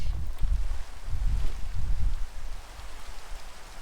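Rain in Minecraft with a realistic shader and texture pack, a dense, loud hiss of falling water with low rumbling gusts that ease off toward the end, heard alone without talk.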